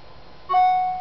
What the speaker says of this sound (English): As you hear that, that's the sound of email.